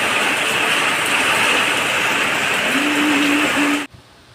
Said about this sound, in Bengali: এখানে বাইরে খুব জোরে বৃষ্টি পড়ছে।